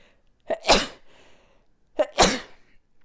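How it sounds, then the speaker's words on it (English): Two sharp sneezes, each with a quick inhaled lead-in, about a second and a half apart, close and loud with quiet between. "I have to sneeze"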